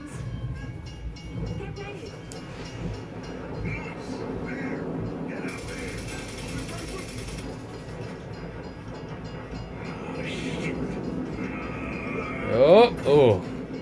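Train rumbling along in the Gears of War video game, a continuous low rolling clatter with mechanical noise, rising to a louder burst near the end.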